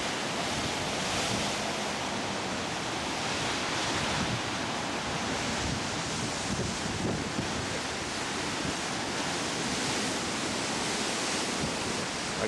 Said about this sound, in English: And if it's Oregon, there you got the ocean.